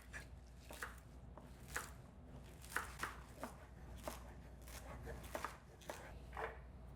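Vegetables are chopped for a salad on a board in a home kitchen, with a knife striking in irregular, fairly soft taps, close by and under quiet background sound.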